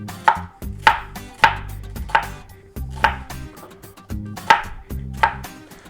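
A knife chops an onion on a cutting board in about nine crisp, evenly spaced strikes, close and loud, each thud ringing briefly with no talk over it.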